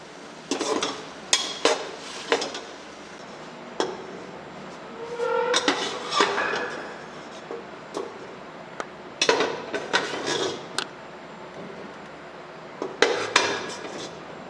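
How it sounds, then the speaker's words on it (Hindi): Metal utensils scrape and clatter against a pot in irregular bursts as cooked meat is scooped out, with clinks and knocks close by and short pauses between scoops. "अब इसे एक बर्तन में बाहर निकाल लेंगे।"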